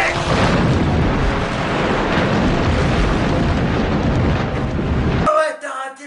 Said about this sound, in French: une énorme explosion